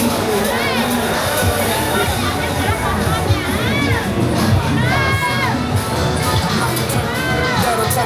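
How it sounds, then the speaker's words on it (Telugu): Loud crowd shouting and cheering on Walking Street in Pattaya, dense and continuous, with high calls rising over a constant babble of voices. "పాపం ఎంత గట్టిగా అరుస్తున్నారా"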